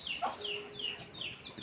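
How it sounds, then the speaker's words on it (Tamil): A hen clucks as she forages with her chicks along a roadside, giving a steady run of short, fairly quiet clucks at a regular rhythm with no talking. "இந்த கோழியை பாருங்கள், தன் இரு பிள்ளைகளையும் கூட்டிக் கொண்டு"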